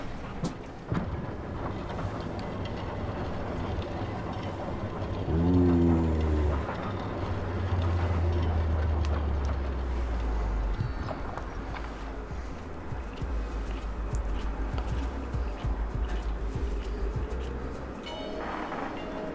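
Train station ambience in a video game, with a low rumbling train and a rising mechanical tone near the middle, plus scattered clatter and background hum running steadily throughout.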